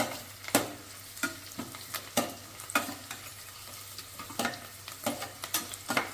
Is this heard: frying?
yes